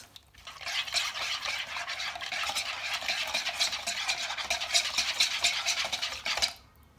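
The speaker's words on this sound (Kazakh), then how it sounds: "Одан соң үстіне сары майымызды құямыз. Жақсылап араластырамыз." A spoon stirs sour cream and melted butter in a bowl, making a close, steady scraping and squelching that runs continuously for several seconds before stopping.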